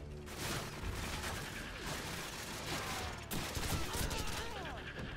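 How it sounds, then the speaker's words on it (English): Sustained gunfire from a Call of Duty 4: Modern Warfare firefight, with dense overlapping shots and rattling bursts that stay loud throughout, plus a sharper burst near the end. "They're just shooting, aren't they?"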